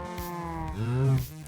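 A cow moos in Minecraft, one sustained, close, fairly loud low bellow that rises and falls over about a second.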